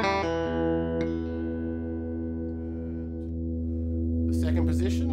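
An Eric Clapton Stratocaster electric guitar played through its bridge pickup rings out in a sustained chord that decays slowly, with one fresh picked note in the middle and a brighter strum near the end, heard without any talking.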